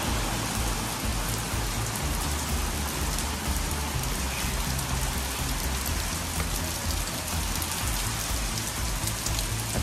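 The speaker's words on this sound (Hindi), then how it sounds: "अच्छी खासी बारिश हो रही है।" Heavy rain pours down steadily at an adventure park near Olpad, Gujarat, a dense, unbroken hiss of drops drumming on surfaces close by.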